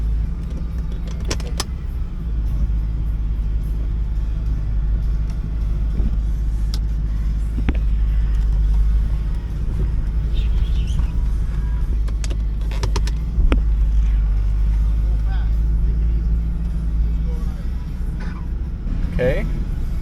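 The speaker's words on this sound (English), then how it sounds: "Car seems to be driving normally." A 30-year-old Lexus with a swapped transmission drives along with a constant low engine and road rumble, punctuated by occasional clicks and rattles inside the cabin.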